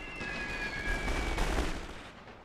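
Dense, continuous submachine-gun fire from US Marines rattles across a World War I battlefield in The Great War: Total War strategy game, a thick wash of overlapping shots and rumble with no pauses and no talk.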